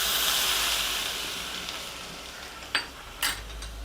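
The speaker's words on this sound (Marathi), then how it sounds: "आता या ह्याच्यात मी जरा गरम तेल घालते" Hot oil poured over palak paneer bhurji sizzles in a broad hiss that slowly fades, followed by two short clinks of a utensil against the pan, close by.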